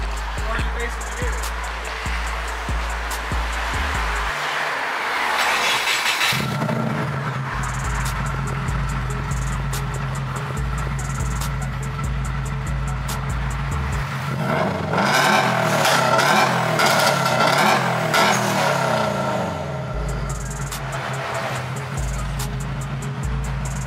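A loud Subaru engine with its exhaust silencer removed roars and revs repeatedly nearby, harsh exhaust blaring between rises and drops, with voices talking over it.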